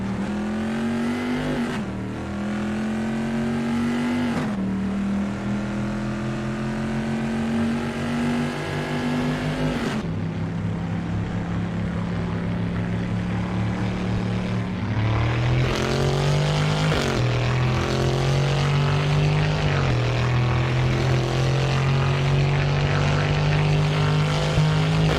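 A Bizzarrini car in the racing game Assetto Corsa, its large-displacement engine revving loud and close, climbing through the gears with a sustained snarling drone and pitch drops at each shift.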